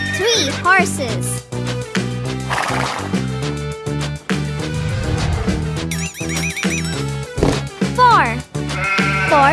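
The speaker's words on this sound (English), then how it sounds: "Four sheep." Four sheep bleat in short, wavering calls against upbeat children's music, alongside other farm-animal sounds.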